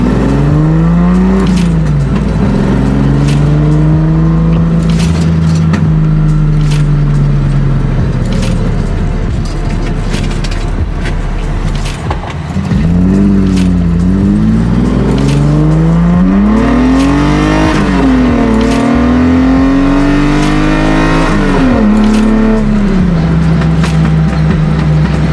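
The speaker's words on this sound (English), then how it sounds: "Get out on the main road, let you hear some of that induction noise." A 1975 Datsun 280Z fitted with individual throttle bodies drives along a road, its intake roaring loudly as the engine revs rise and fall through repeated accelerations and gear changes, close and continuous with no talking.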